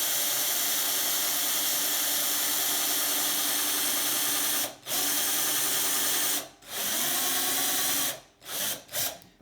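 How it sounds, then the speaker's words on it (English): A power drill bores a hole in a vintage Atala bike frame, a loud steady whir close by that breaks off in a few brief pauses near the end. "I'm always drilling normal to the surface."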